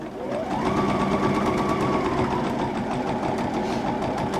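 A sewing machine stitches pieced quilt blocks together with a scant quarter-inch seam, running in one steady, close, continuous whir from start to finish with no talking.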